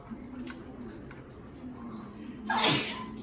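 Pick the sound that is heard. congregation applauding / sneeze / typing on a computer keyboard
sneeze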